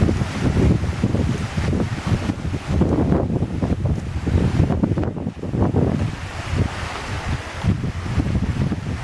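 Strong wind buffets the microphone on a lake, a constant loud roaring rush mixed with choppy water and gusting surges, with no voices.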